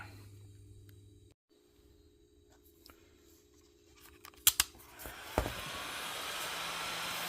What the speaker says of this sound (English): now I'm going to heat it up and melt the sealant